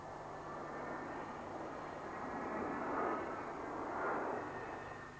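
CASA C-101 Aviojet jet trainers in arrow formation at an air show roar past at a distance, a broad steady rumble that swells gently and then eases.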